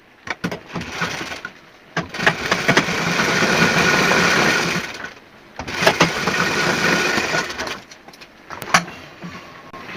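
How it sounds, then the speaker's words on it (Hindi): An electric sewing machine stitches a semi patiala salwar in two long continuous runs, a steady close whirring broken by a short pause and a few clicks, with no talking. "अब दूसरी तरफ भी हमें इसी तरह से सिलाई मार देनी।"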